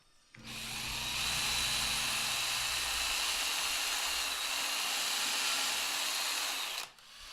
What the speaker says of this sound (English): I'll go ahead and drill a pilot hole.